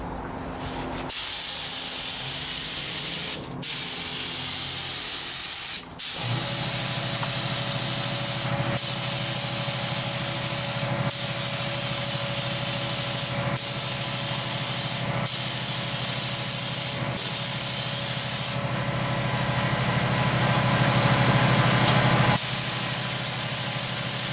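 Steady, loud airbrush-like hiss of a spray gun applying red paint with gold fleck to a lower car panel, running continuously with a few brief stops and restarts, close and dominant with no talking.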